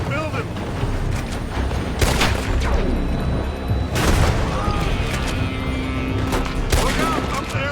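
Gunfire in Red Dead Redemption 2: repeated loud gunshots and booming blasts echo over a dense battle din, with several sharp reports in close succession amid shouting voices.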